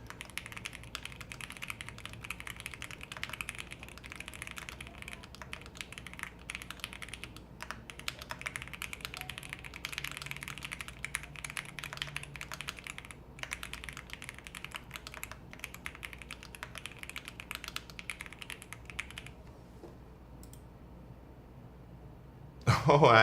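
Rapid computer keyboard typing during a typing challenge, a dense continuous clatter of keystrokes with brief pauses, close and moderately loud, ending in near quiet.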